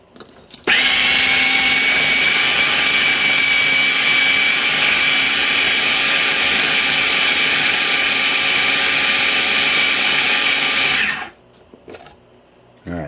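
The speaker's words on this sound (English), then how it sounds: "the on-camera food processing of liver pate for this episode" A food processor blends chicken liver pate, its motor starting abruptly into a loud, steady whirring drone for about ten seconds before cutting off, with a brief clatter afterward.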